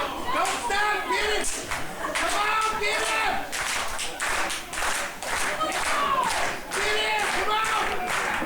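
Wrestling crowd cheering and clapping in rhythmic bursts, a lively arena noise mixed with shouting and close commentary voices talking throughout.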